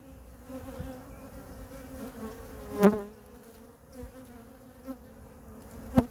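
Honeybees buzz around the hives as nucleus colonies are installed, a dense, close drone with individual bees passing near the microphone in sharp swells, and a few soft knocks.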